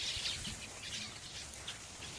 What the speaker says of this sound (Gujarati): ચકલા ઘાએ ઘા ઉડી ગયા.